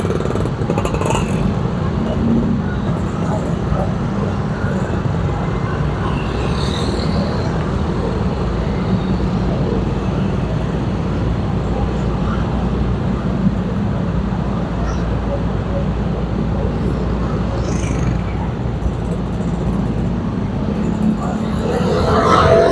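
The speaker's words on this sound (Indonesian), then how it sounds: "Tadi itu penumpukan kendaraan karena ada pertigaan" Busy intersection in Makassar at a T-junction, with a constant dense wash of motorcycle and car traffic rumbling close by and occasional louder passing engines throughout.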